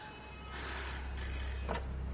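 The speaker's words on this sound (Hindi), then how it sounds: "फोन बज रहा है, सुना नहीं दे रहा तेरे को?" A telephone rings indoors, a fairly faint electronic tone that swells and holds over a low background hum, with a brief louder burst near the end.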